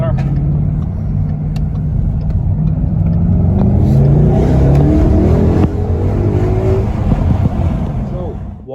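Ford Mustang GT fitted with a custom cold air intake accelerates hard under a steady, loud engine drone with rising pitch sweeps as it pulls through gears and takes a corner, a voice talking over the engine.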